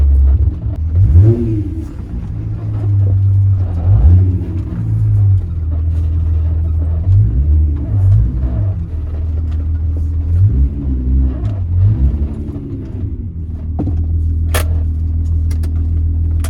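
A car engine revs hard during a track-prep run, a loud continuous drone with repeated rising pulls and falls in pitch, close and alone without talk.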